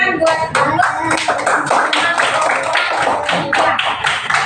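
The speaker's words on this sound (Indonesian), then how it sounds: "mari kita buat tepuk tangan buat" A classroom of students claps for a student group after a science lesson, a loud, steady burst of many hands close by with dense, continuous slaps throughout.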